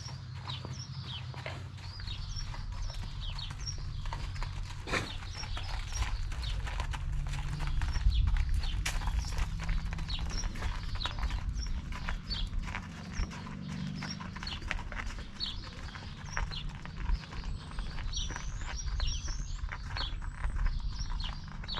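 Horses being led out to pasture, their hooves clip-clopping in an irregular, fairly close walking rhythm, with birds chirping faintly around the farm in the background.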